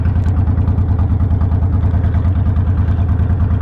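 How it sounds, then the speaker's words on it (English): A Tao Gemini motorcycle engine idles steadily up close, a loud low pulsing rumble with an even, rapid beat throughout. "I can hear your bike idling through the speaker in my helmet."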